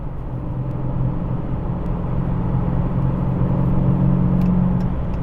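Steady, rumbling idle-to-cruise drone from a 2021 Dodge Challenger R/T's Hemi V8, heard from inside the cabin, a continuous low throb that holds level for several seconds with no talking.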